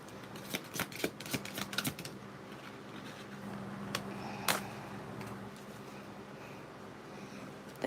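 Soft tarot cards being shuffled by hand, a run of quick riffling snaps and flicks early on, then quieter rustling and sliding with a few sharper taps, close and clear with no talking.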